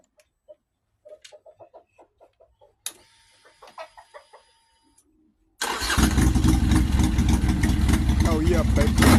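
Car engine cranking and firing on its first startup after a spark plug change, catching suddenly into a loud, steady roar that fills the rest of the clip, following a stretch of scattered clicks, knocks and quiet shop noises.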